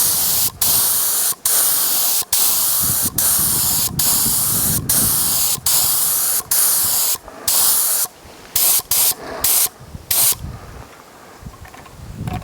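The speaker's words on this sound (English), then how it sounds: "let's see what the lacquer looks like when I spray this grinder" Lacquer is sprayed onto a wooden pepper grinder made from a recycled bull oak fence post, in loud, close bursts of aerosol hiss separated by short regular pauses, the bursts growing shorter and choppier toward the end.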